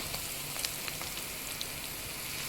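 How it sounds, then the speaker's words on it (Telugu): Steady hiss and crackle of tamarind juice hitting a hot, oily pan of golden tempering seeds, a continuous sizzle with small pops scattered throughout. "ఇప్పుడు చింతపండు పులుసు పోసుకోవాలి."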